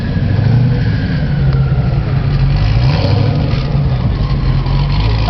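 A Bugatti Veyron Super Sport with its 1,183-horsepower W16 engine roars at the Goodwood Festival of Speed 2011, a loud, steady, deep engine drone that holds for the whole stretch without clear separate revs.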